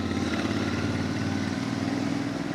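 A motorcycle engine pulls hard in third gear at full throttle, a loud, close, continuous growl holding steady throughout, with no talk over it.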